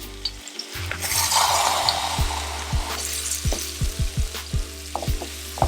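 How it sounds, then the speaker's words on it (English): Canola oil sizzles in a pan as food hits it for stuffed bell peppers, a steady frying hiss with a series of rhythmic wooden knocks and stirring taps close by, no talking. "if it starts sizzling, which it's starting to already"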